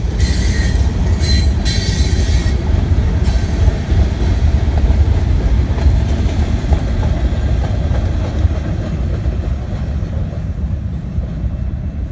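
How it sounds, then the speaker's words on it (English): A train rumbles past at close range, a steady heavy roar of wheels on rails with occasional high squeals, no voices. "Sorry, had to catch that train."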